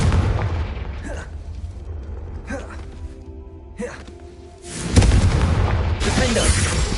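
Confringo, the fire spell in Hogwarts Legacy, bursts as a series of deep booming blasts, several loud impacts spaced a second or two apart with a heavier rumbling explosion toward the end, over steady game ambience.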